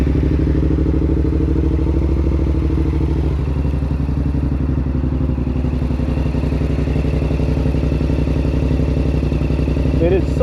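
A Yamaha R7 motorcycle fitted with a Yoshimura AT2 exhaust idles while warming up, producing a loud, close, steady low engine rumble with a fast even pulse throughout.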